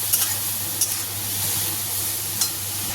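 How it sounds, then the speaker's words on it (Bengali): Potatoes and spice masala stir-fry in a pan after a splash of water, giving a loud, close, continuous sizzle with a few sharp spatula scrapes against the pan. "দেখো, যাতে মশলাটা পুড়ে না যায় আর সুন্দর করে এর সাথে মিক্স হয়ে যায়।"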